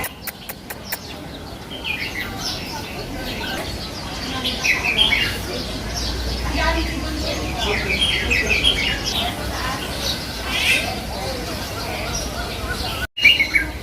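Assorted birds chirp and tweet inside a pagoda aviary in Yuen Long Park, Hong Kong, with overlapping calls scattered throughout at moderate distance over soft background noise.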